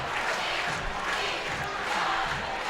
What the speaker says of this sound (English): Hahnville crowd is elated here as they have managed to tie up this game.